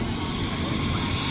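A helicopter runs at a helipad at sunset during the Medaram jatara, its steady engine and rotor drone loud and continuous throughout, with no pauses.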